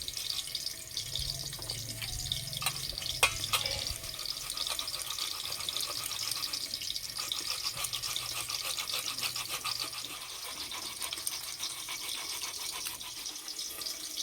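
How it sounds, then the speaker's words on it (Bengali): Ginger and tomato being grated by hand on a small grater in a home kitchen while preparing a vegetarian Kashmiri aloo dum, a steady close scraping rasp running continuously under a faint kitchen background. "আদা টমেটো আলাদা করে গেট করে নেব।"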